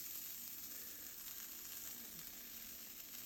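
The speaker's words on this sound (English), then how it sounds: "beef in the middle of the pan." Beef sizzling in a pan with about a tablespoon of cooking oil, a steady, dense hiss of frying that runs unbroken and close.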